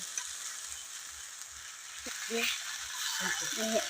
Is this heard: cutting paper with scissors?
no